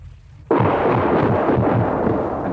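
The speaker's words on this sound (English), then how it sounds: "That was German gunfire in the distance." Archival battle recording of German gunfire in the distance between American paratroops and German SS troops: a sudden heavy rumbling burst that breaks from near silence and rolls on as a dense, sustained low roar.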